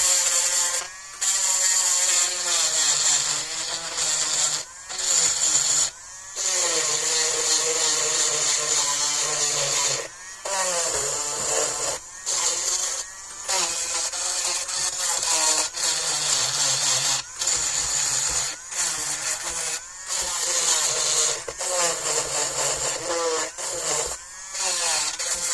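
A Dremel rotary tool buzzes steadily on an older Tonka toy fire truck under repair, a loud continuous high whine with several brief stops and restarts, close up and with no talk.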